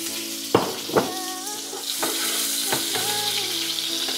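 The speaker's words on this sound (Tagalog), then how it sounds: "Yan, mainit ng mantika, lagyan na natin yung bawang." Chopped garlic hits hot cooking oil in a pan, giving a loud steady sizzle with a few sharp clatters and stirring scrapes near the start, no speech.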